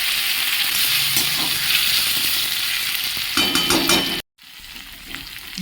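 Ginger, bay leaf and green chili hit hot oil in a pan, giving a steady, loud, close sizzle with stirring scrapes, briefly cut off by a short silence before the frying hiss resumes.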